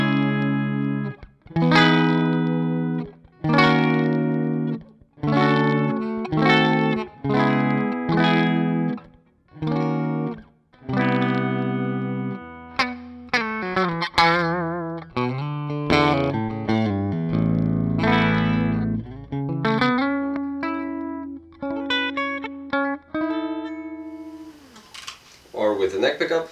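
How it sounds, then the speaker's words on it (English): Clean electric guitar on the bridge pickup with a bright, twangy edge, strummed chords and picked single notes in a steady rhythm, loud and close, no talking. "let's see how the guitar sounds. So with a clean tone and a bridge pickup"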